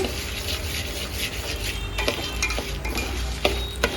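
Moong dal lightly roasting in a pan, a steady close dry sizzle and rustle with occasional scraping stirs, no voices.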